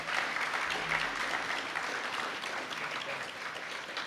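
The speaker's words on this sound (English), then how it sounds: "Round of applause for Josh again, please." An audience applauding a speaker at a disaster awareness event, a steady wash of many hands clapping throughout, moderately distant and fairly soft.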